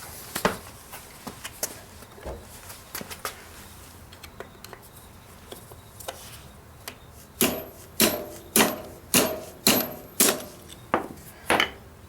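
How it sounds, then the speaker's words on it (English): A stuck cotter pin on a Wheel Horse garden tractor being struck with a metal tool, scattered light taps at first, then a run of about eight loud, evenly spaced metallic blows close by. "It doesn't want to give up and come out. It will. I just need to hit it with something."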